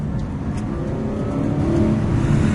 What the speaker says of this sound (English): it doesn't feel that smooth right at the top of the rev range if you really rev it out